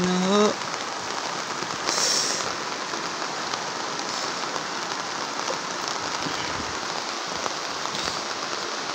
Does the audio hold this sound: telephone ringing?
no